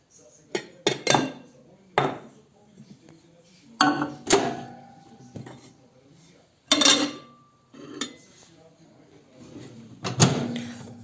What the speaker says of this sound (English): Put another bowl on top of it and put it in the microwave.